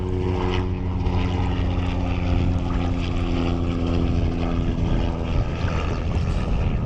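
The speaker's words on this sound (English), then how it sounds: "with a helicopter flying over watching us" A helicopter's rotor and engine thrum steadily and loudly, a constant low rumble with no talking.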